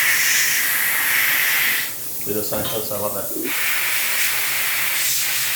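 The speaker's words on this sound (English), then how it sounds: "I'm gonna let you spray the inside of the nose with this first." A hissing aerosol spray fills the nostrils of a deer mount during a first-time taxidermy job on a Missouri buck. The spray runs steadily, breaks off briefly while a person speaks, then resumes.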